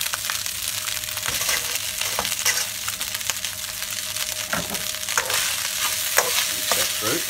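Rice fries in butter in a pan for a soy ginger salmon dish. A constant sizzle runs under repeated scraping and clacking strokes of stirring, with no talking.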